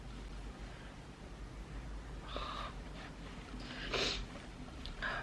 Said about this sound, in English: I'm so sorry about the sniffles